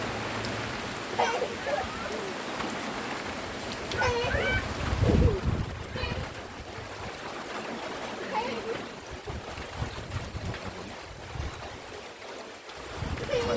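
Rain patters on a temporary roof in a continuous hiss, with a louder splashing burst partway through and someone speaking over the downpour.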